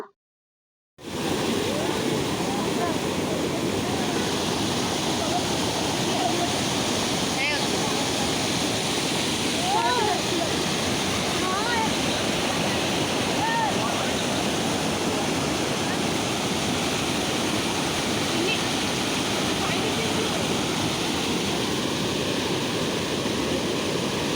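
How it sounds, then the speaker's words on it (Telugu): Water gushing like a waterfall at a zoo, a loud, dense, continuous rush that fills the whole stretch after a brief silent start. "ఇంకా ముందు ఇట్లా జలపాతాలాగా వస్తాయండి వాటరు. ఎట్లా అసలు చప్పుడొస్తుందో చూడండి మీరే."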